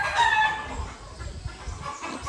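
Free-roaming chickens at a farm in Port Edward, South Africa cluck and call briefly outdoors, a rooster-like cry fading into soft clucks over steady background noise.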